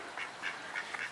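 Ducks at a farm quack softly, with four short nasal calls spaced evenly over a second against steady background noise.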